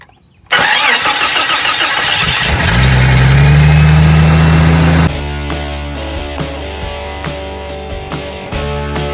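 A 1996 Jeep Cherokee XJ 4x4 engine cranks loudly and catches, roaring up before settling into a steady idle while sharp clicks and knocks repeat over the running engine.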